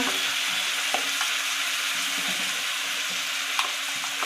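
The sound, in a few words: ginger, garlic and chilli powder frying in pan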